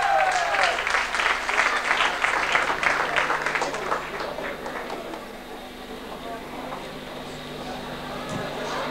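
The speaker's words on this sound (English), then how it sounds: "Give him a nice round of applause." Applause from a live radio show audience, a dense, steady wash of clapping that fills the opening seconds loudly, then thins and fades toward the end, with some talk mixed in.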